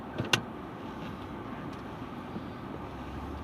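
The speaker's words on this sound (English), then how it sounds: "See how much road noise we get out of this." Steady low road rumble and tyre noise fill the cabin of a moving car, faint and constant, with a couple of brief clicks near the start and no talking.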